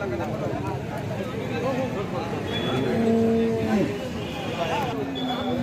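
An ABS Armada breed cow moos briefly at a busy cattle market, a short drawn-out call heard over a steady crowd murmur and nearby talking voices.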